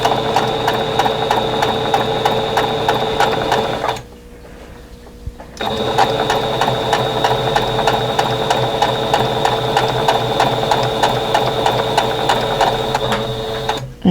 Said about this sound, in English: So we'll go to the sewing machine and work on that.